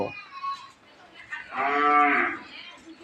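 Cattle at a cow market, a single close, loud moo lasting about a second against a quiet background.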